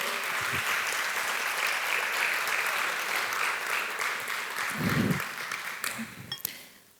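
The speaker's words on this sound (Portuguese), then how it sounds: "Aplauda a palavra do Senhor." Church congregation applauding together, a dense steady clapping that holds for several seconds and then tapers off, with a brief voice near the end.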